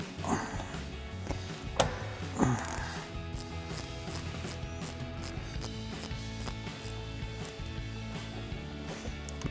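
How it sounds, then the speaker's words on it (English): A 10mm ratcheting wrench breaks loose a bolt on the back of a transmission in a 2009-2023 Dodge Challenger: a few sharp snaps near the start, then close, steady mechanical ratcheting and rubbing over a constant background hum. "take my 10mm ratcheting wrench. And we're going to break this loose"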